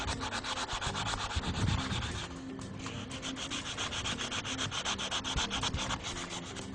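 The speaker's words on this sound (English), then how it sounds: "we just basically work our way round and remove as much of the rust scale as we can" Rust scale scraped off a brake disc rotor, a continuous rhythmic abrasive rasping of fast back-and-forth strokes, close and fairly loud with no talking.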